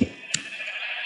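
A short game-style sheep bleat in CasualCraft, a brief nasal cry that starts abruptly and trails off, with a faint click partway through.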